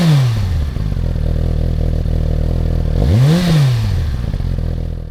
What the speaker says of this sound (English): this engine and pipe is too loud and not sounding very attractive